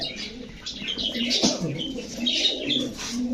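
A pigeon being held and handled, with rustling feathers and brief bursts of wing flapping close up, plus faint cooing and chirping from other birds nearby.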